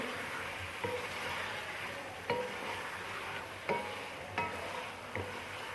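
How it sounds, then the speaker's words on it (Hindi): Chicken frying in a pot for tinday gosht, a soft steady sizzle broken by a few spoon knocks against the pan, fairly quiet and without talk. "तो अब मैं इसमें शामिल करूँगी चिकन, और चिकन को हम अच्छी तरह से 5 से 7 मिनट इसको भून लेंगे।"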